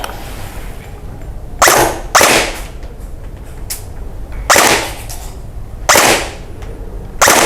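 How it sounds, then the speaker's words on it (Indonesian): Airsoft rifle fired on single-shot mode, each trigger pull giving a sharp, loud crack with a short tail, spaced irregularly about every second or two over a steady low background hiss. "Ini kita buka dulu safety-nya ke single dulu paling bawah. Tembak."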